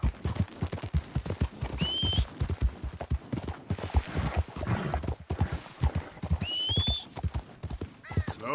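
A ridden horse in the video game Red Dead Redemption 2 clip-clops along in a brisk, steady gallop of hoofbeats. It lets out two whinnies partway through, all heard up close.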